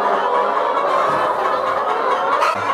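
A dense chorus of chickens clucking and murmuring together, a constant busy flock noise close by with no single bird standing out, at a poultry farm in Zambia.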